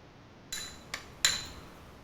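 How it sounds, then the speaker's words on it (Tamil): A spoon stirs mango custard powder into milk in a bowl, giving three light clinks against the side. They come one after another and are close and fairly quiet, with no talk. "இந்த மேங்கோ கஸ்டர்ட் பவுடரில் பாலை ஊற்றி நல்லா கலந்து"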